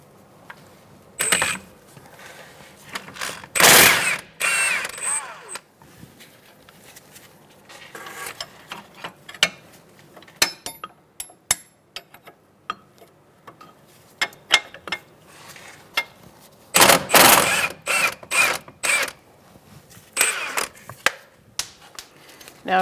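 Nuts coming off the strut mounts of a 2002-2006 Toyota Camry, worked with a 22mm socket on a ratchet while a 22mm wrench holds the bolt head: bursts of clicking ratchet and metallic clinks, close and intermittent, with quiet gaps between.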